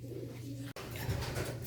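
Racing pigeons coo in a loft, a steady low murmur of several birds close by with no talk over it.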